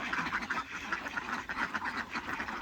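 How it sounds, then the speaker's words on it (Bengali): Ducks on a farm quack steadily and loudly, many calls overlapping in a dense, continuous chorus close by. "কিছু হাঁস ভিতরে, কিছু হাঁস বাইরে"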